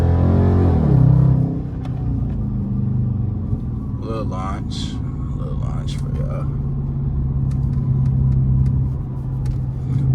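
A V6 car launches with a loud, deep engine rumble that holds steady up close, while voices break in briefly.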